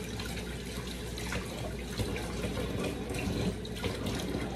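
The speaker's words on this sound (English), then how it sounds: "let me wash my hands" Water from a kitchen faucet runs steadily while hands are washed under it, a constant soft splashing and hiss that is close but fairly quiet and carries no talk.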